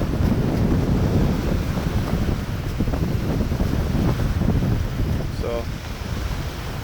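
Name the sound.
strong wind on a beach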